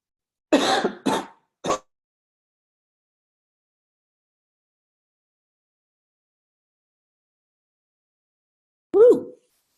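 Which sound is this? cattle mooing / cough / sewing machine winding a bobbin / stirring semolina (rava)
cough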